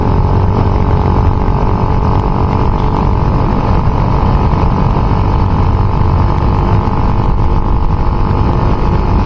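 A motorcycle engine with a faulty cam chain tensioner runs steadily at close range, a continuous mechanical drone with dense rattling clatter and no pauses.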